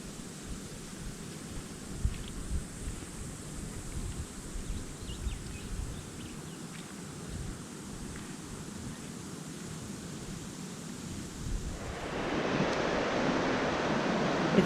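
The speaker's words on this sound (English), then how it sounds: "It's blowing a light northerly today." Light northerly wind blowing along the coast at Wathumba Creek, a steady broadband rush with surf-like texture that swells louder toward the end, no voices.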